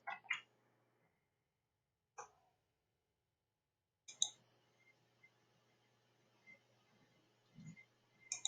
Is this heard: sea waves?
no